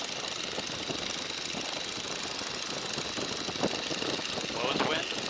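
Boeing N2S-3 Stearman biplane engine in flight as power is added, a loud, steady, rumbling radial drone mixed with rushing wind noise that holds throughout with little change.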